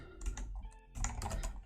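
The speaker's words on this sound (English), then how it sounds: "I'm just going to use the keyboard shortcut, Command Enter, and it places it here" Quick clatter of keystrokes on a computer keyboard entering a shortcut, two short bursts of taps close by with a brief pause between.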